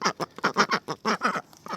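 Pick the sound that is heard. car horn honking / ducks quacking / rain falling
ducks quacking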